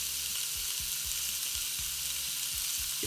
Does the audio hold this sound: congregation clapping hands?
no